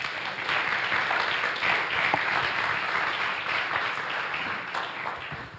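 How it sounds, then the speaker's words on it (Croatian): An audience applauds together, a sustained wash of clapping that holds steady for several seconds and begins to thin out at the end. "Evo, molim vas, pozdravite ga s jednim pljeskom."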